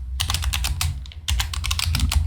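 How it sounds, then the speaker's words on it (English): Steady typing on a computer keyboard during a typing race game, a rapid run of close, crisp key clicks with a brief pause midway and no talk. "I'm not really good at typing, as you can see."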